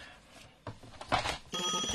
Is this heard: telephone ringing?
yes